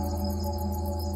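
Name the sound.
cricket chirping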